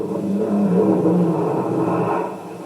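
A Porsche engine drones and revs steadily close by in a motor racing crash setting, a continuous rumble that eases off near the end.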